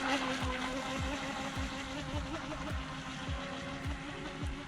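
A Top Race TR-900 RC boat with a 370 brushed motor runs at full throttle, a steady high electric whine with a faint rhythmic thump as the hull slaps the water, heard from a distance.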